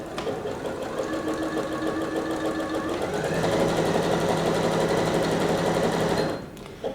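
A bernette b37 sewing machine runs a zigzag stitch pattern, a loud, close, steady rapid mechanical whir and needle clatter that speeds up slightly midway and then stops abruptly near the end.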